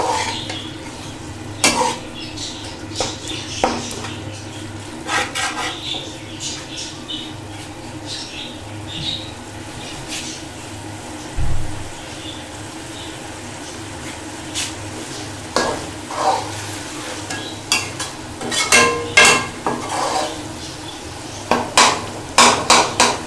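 Chilli masala being roasted and stirred in a pan for a Hyderabadi daal, with a steady close sizzle broken by repeated scraping and clinks of a spoon against the pan, no voices.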